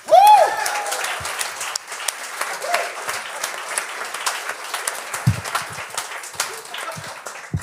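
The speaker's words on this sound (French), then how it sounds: "un gros tonnerre d'applaudissements pour à mon comédien maison, Louis!" A studio audience at a comedy game show breaks into loud, sustained applause with some cheering, opening strongly then settling into steady clapping under brief voices.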